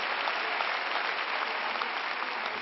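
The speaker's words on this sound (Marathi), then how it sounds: "मी टाळ्या वाजवते तुमच्यासाठी" A woman claps for her audience, a dense, even burst of applause that holds steady and fairly faint for a few seconds with no voices.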